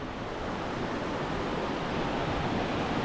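Sea waves wash onto Chaweng Beach on Koh Samui, a loud, steady roar of surf with continuous rushing noise and no distinct breaks, no voices.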